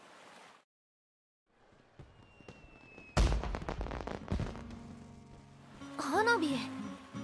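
Festival fireworks in the Umamusume video game: a sudden loud burst of crackling bangs hits mid-scene, then fades into a steady musical backdrop with a bright rising tone near the end.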